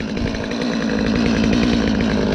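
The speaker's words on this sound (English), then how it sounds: "Do not start your chainsaw and run it full bore right away" A chainsaw engine runs loud and close, a steady buzzing roar with a fast rhythmic chatter and no pauses.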